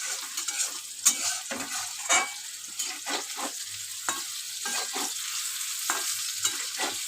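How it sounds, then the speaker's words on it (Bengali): Food with chili powder is stir-fried in a pan, with a continuous bright sizzle broken by repeated scraping strokes of a spatula, close and clear, with no talking. "লঙ্কার গুঁড়ো দিয়ে একটু ভালো করে ভেজে নেব।"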